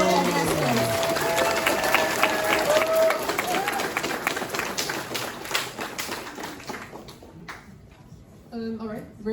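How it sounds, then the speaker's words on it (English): Warm audience applause and clapping fill the hall at a convention opening ceremony, a dense sustained roar with cheers and a presenter's voice over it, fading out before scattered claps and talk return at the end. "please give another warm applause for them"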